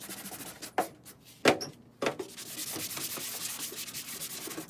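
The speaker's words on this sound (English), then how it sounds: "Just light sanding some of the lighter rust spots off here just to see the surface." Light hand sanding of rust spots on a dented metal toolbox, close and steady rubbing strokes broken by a few sharp scuffs and knocks early on, with no talking.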